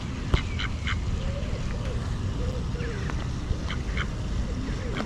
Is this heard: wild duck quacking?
yes